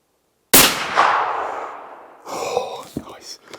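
A Blaser K95 Ultimate Carbon single-shot lightweight rifle fires one loud, sharp report of factory ammunition, with a long decaying echo, followed by people talking nearby.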